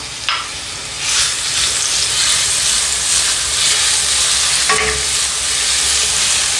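Garlic sautés in about a spoonful of olive oil in a hot pan for a white mushroom pasta sauce, a steady, close sizzle with brief stirring scrapes and no talk.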